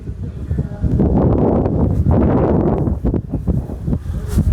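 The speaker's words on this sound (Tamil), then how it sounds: "காத்து காத்து" Wind blowing hard across a microphone outdoors at a home site, a loud, steady broadband rumble with gusts swelling and easing throughout, with faint voices and rustling mixed in.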